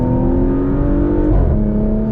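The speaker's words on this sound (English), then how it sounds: "there are always these crackles and pops which are happening in the exhaust as well, especially if you put it in the Sport Plus mode" A 2023 Porsche Macan GTS engine drones steadily and loudly from inside the cabin while cornering, with a slight rise in pitch midway and no distinct exhaust pops standing out.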